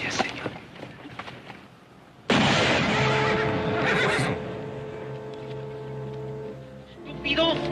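A horse whinnies loudly and long after a short stretch of quieter hoof and background noise, the neigh starting abruptly and rising to a high shrill cry before a brief breathy snort at the end.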